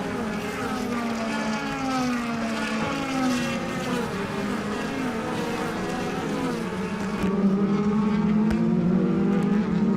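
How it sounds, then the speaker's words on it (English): DTM race cars at the Nürburgring in 2012 drive through an uphill chicane, several engines whining and shifting pitch as they pass in a continuous close drone that grows slightly louder toward the end. "as the cars once again go through this phenomenal uphill NGK chicane"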